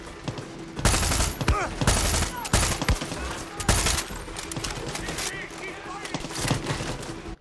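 Bursts of automatic gunfire in the video game Far Cry 6 rattle around the player in rapid, loud volleys, with scattered single shots in between.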